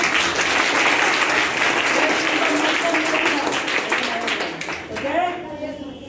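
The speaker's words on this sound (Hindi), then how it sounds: "जोरदार तालियां" Audience applauding loudly at a motivational talk to young people, dense continuous clapping that thins out toward the end as a voice comes in.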